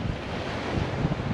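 Ocean surf rolling onto a Florida Gulf beach at Navarre, a steady broadband wash of waves with wind buffeting the microphone throughout, close and continuous with no voices.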